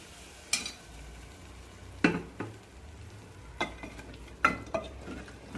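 Ragi mudda, a thick finger-millet mash, stirred and mixed in a pot, giving a few distinct scraping knocks spaced a second or so apart over a soft, steady background.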